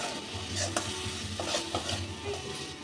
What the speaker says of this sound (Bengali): একটু নেড়ে এবার দিয়ে দেবো 1 মুঠ মটরশুঁটি